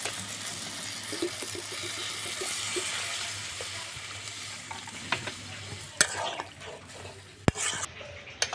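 Water poured into a pan of spice paste and tomato frying for a fish and potato curry, a steady loud sizzle and stirring followed by a splash and sharp clinks of utensils, no talk.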